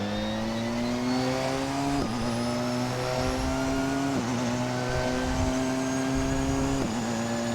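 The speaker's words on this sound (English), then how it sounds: "182 miles per hour right now and still accelerating reasonably hard." A Porsche 919 Hybrid race car accelerates hard at high speed, its engine a loud, continuous high-pitched whine that climbs steadily and drops briefly at each gear shift, heard from close up.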